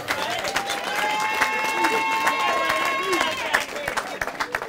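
A crowd of wedding guests claps and applauds steadily, with some voices and babble mixed in, the clapping fading out near the end.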